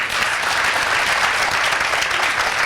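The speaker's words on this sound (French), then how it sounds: "Acclamation pour ce monsieur-ci." Audience applause with cheering on a French television studio set, a dense, loud, steady wash of many hands clapping for a guest, continuous throughout with no speech on top.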